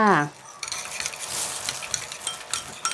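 Sugar and seasonings being stirred into a Thai chili dipping sauce for crispy pork: a steady scraping, swishing stir with light utensil clinks, close and alone after a brief voiced sound at the start.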